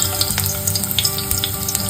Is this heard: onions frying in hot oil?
yes